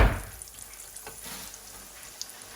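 Chips deep frying at high heat in hot oil, a soft continuous sizzle close by, with a brief burst at the start and no talk.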